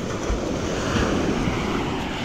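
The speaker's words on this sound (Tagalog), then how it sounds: "ngayon kasi malakas ang alon." Continuous rushing surf from strong waves on a beach with heavy wind noise buffeting the microphone, a steady roar with occasional low thumps.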